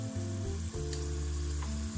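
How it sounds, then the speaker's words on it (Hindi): Garlic, ginger and tomatoes frying in a pan for palak dal; a close, steady sizzle with a low humming tone and a couple of soft stirring knocks, brief and without speech. "लहसुन अदरक भी फ्राई हो चुका है, इसमें टमाटर डाल रही हूँ।"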